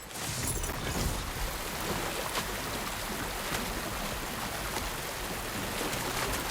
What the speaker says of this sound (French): Le coffre derrière la cascade